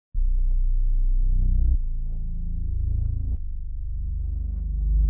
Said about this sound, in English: all I added to loop was this growler mode bass